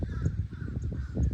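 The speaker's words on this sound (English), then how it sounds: "Just listening to the birds." A crow caws outdoors in a quick burst of harsh calls, moderately loud over low background rumble, with no voices.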